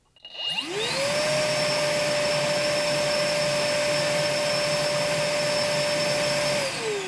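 A Milwaukee M18 Fuel 6 gallon wet/dry vacuum at speed level 1 spins up quickly into a loud, steady high-pitched whine, holds it, then starts to wind down near the end.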